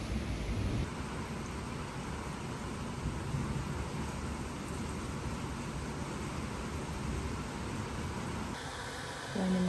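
Steady rain pours down through a summer thunderstorm on a rainy morning, a dense even hiss holding for most of the stretch with low rumbling underneath, then easing near the end.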